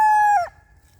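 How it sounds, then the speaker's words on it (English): A single rooster crow, loud and close, with a long sustained call that breaks off sharply halfway through, leaving quiet background. "I have 2 double-barred roosters. Those are the ones making noises."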